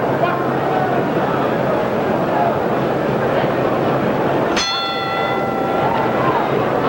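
Boxing ring bell at a heavyweight fight between Muhammad Ali and Sonny Liston, one bright clang ringing out and decaying over a dense crowd roar while a commentator talks.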